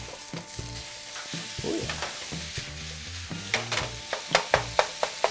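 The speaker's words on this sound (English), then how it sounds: "We're gonna throw in our pork breakfast sausage. Just wanna break it up." Pork breakfast sausage fries in a hot pan with a soft sizzle, then a run of sharp rhythmic knocks as it is broken up, and a voice briefly speaks.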